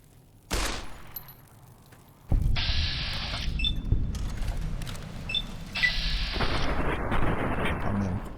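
Gunfire in the game Fallout New Vegas, fought against scorpions in the Mojave Wasteland: a sharp early shot, then loud sustained bursts and crackling impacts over a dense rumbling battle backdrop, with no clear talking.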